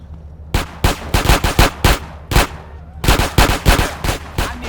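Rapid machine gun bursts in GTA San Andreas Definitive Edition, loud and close, two long strings of sharp shots separated by a brief gap.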